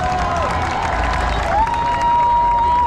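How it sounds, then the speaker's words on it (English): A crowd at a veterans parade applauds and cheers in a steady, loud wash of sound, with a high whistle-like tone sliding through and no clear talk. "y'all give them a round of applause"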